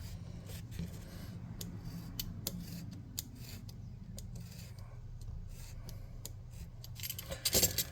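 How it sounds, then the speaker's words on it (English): A craft knife scores grooves into a piece of miniature material for a tabletop figure, giving a quiet series of short scraping, clicking cuts close to the microphone over a low background hum. "I'm going to get a knife. I'm going to cut some grooves in this to make sure it holds glue well."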